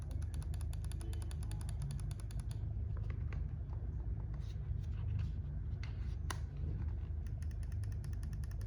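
Small plastic clicks and mechanical ratcheting from the switched triggers of a Kreo Surge Ultra game controller tap out irregularly and close by, quiet against a low steady hum.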